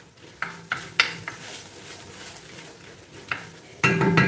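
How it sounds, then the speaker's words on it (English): Ingredients for a ham casserole sauté in a pan, a soft sizzle under a few sharp clinks and scrapes of a utensil against the pan. "this is just sauteing away here"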